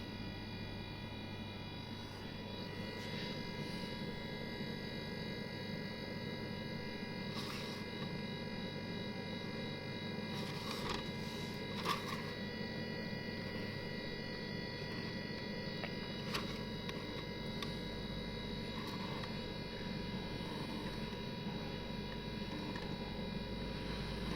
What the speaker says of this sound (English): Cooler's actually pumping but very slow.